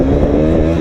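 A motorcycle engine revs loud and close in a racing video game while the throttle is held open through fields, giving a steady buzzing drone.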